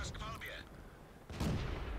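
The M8A1 tank's cannon fires in World of Tanks, a sudden loud boom about midway that rings out in a rumbling tail. A voice briefly sounds just before it.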